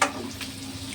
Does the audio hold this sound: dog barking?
no